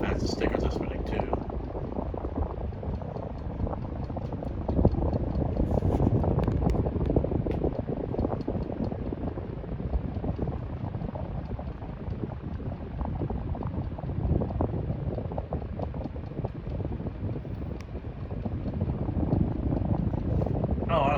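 A Hampton Bay Minuet II 32-inch satin brass and oak ceiling fan runs on high speed, giving a steady, close, airy whoosh of rushing air with a low rumble that holds constant throughout.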